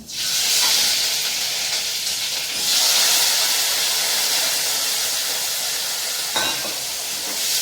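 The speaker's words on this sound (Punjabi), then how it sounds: "ਜੀਰਾ ਪਾ ਕੇ ਆਪਾਂ ਸਿੰਪਲ ਤੜਕਾ ਲਾ ਲੈਂਦੇ ਆ" Cumin seeds sizzle loudly in hot oil for a tadka in a Punjabi village kitchen, a strong bright hiss that swells twice and carries on steadily with one sharp stirring clatter near the end.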